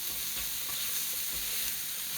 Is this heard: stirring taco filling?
yes